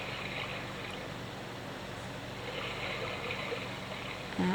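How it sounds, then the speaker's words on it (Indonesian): Steady flowing-water nature sound played from an electric portable baby swing, a continuous broadband rush at even loudness throughout, with no talking. "Nih yang pertama ini bunyi air."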